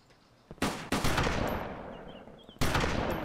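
Gunfire in the video game DayZ Standalone: loud, close shots burst out in two clusters, each followed by a long decaying echo that lingers between them, with no talking.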